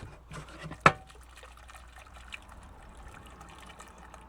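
Bottled water trickling and splashing over food being rinsed inside a van, with a sharp knock early on and then a quiet, steady dribble close by.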